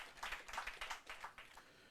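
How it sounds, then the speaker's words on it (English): A small audience claps for student law contestants at a university moot competition, a brief patter of applause that rises and falls over about two seconds and sounds soft and distant. "A round of applause for them."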